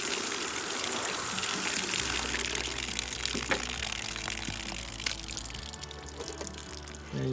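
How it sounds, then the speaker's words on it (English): Water gushes steadily over micromesh gutter guards, a continuous broadband rush that holds at a fairly even level throughout, with a low hum joining partway through. "what it looks like when water is running over both of these."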